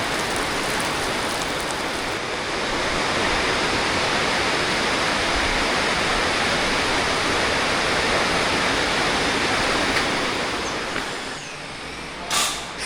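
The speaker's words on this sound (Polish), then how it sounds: "Od samego rana tak pada." Heavy rain pours steadily outside a farm workshop where a Case IH Magnum 310 tractor is being repaired, a dense continuous hiss that stays loud and unbroken with no voices.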